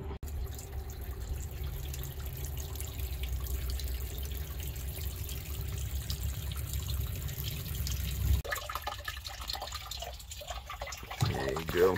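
Liquid drains steadily from the tank of a Ford F650 truck with a Cummins engine, a continuous low rushing pour that runs unbroken for most of the clip before thinning into fainter trickles.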